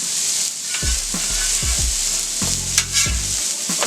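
Steak and onions sizzling in a hot pan, a steady close frying hiss with several scraping and clattering bursts as the steak is flipped and moved, no speech.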